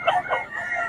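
A rooster crows once, a short, strained call heard fairly close, with faint background noise.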